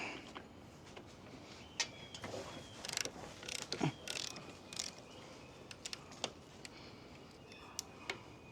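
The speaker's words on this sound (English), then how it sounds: "I'll put a jack under the oil pan" Faint mechanical clicks and ratcheting ticks come in irregular bursts over a soft background hiss of blowing wind, with a few sharper metallic clanks, as a jack is raised under a car engine's oil pan during motor mount replacement.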